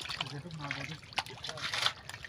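Water trickling and splashing as a canal is bailed out by hand to catch fish, irregular close splashes and dribbles mixed with people talking.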